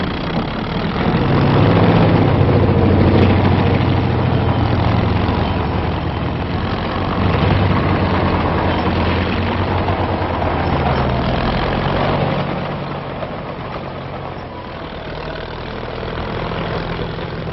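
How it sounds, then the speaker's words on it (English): Heavy diesel engines rumbling and idling, with the low growl rising and easing as big tractor dozers clear debris from roads nearby; no voices. "streets and roads must be cleared of debris so as not to hamper advancing supply columns. Big tractor dozers handle the assignment."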